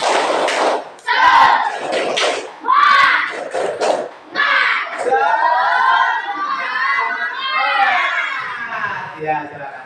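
Children in a classroom audience perform a rhythmic spirit clap, bursts of claps and thumps mixed with excited shouting and chanting voices, loud and close, giving way to a chorus of young voices.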